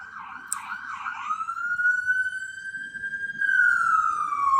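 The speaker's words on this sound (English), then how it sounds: "it's coming right down my street. It's an ambulance" An ambulance siren wails as it comes down a city street, its loud rising and falling tone sweeping steadily over low street rumble and growing louder toward the end.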